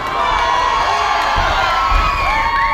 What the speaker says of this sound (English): Let's have a big cheer for the red corner.